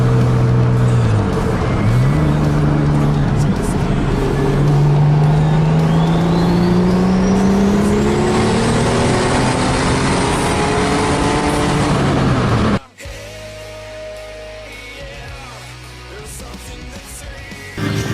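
A stock block car engine drives and revs loudly up through rising gears for about thirteen seconds, then drops suddenly to a quieter, steady running drone at lower pitch.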